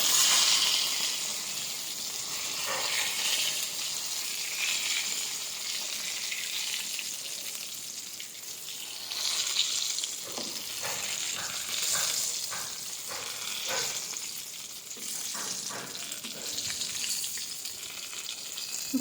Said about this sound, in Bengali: এই যে আমার বেগুনটা আরেকবার নেড়ে দিচ্ছি